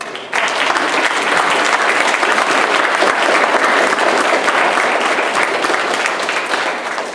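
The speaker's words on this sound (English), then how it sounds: "let's give Bob a big round of applause" Audience applause for Bob, a Silver Star recipient, at an award ceremony: a sustained, loud burst of many hands clapping that starts abruptly and holds steady, easing slightly at the end.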